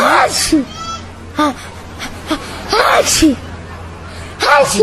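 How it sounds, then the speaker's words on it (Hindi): Repeated sneezing from a person arriving in a crowded Patna setting, several sharp bursts spread across the moment, close and fairly loud amid light voices and background bustle. "बाप रे, तेरी छींक हमेशा चालू रहती है क्या?"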